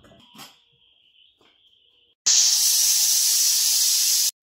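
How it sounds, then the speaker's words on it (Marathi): Faint clinks and a pressure cooker's thin whistle give way to a loud, sustained burst of hissing steam that cuts off abruptly after about two seconds. "एका शिट्टीवर आपण कुकर बंद केलेला आहे"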